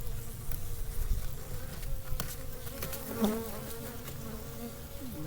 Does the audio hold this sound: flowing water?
no